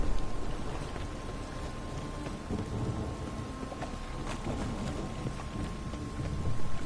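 Steady rain pours in The Witcher 3, a dense hiss of falling water broken by low rumbles of thunder, continuous and fairly loud with no voices.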